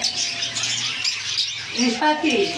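Harsh, repeated squawks from pet lovebirds, close and insistent, with people talking over them.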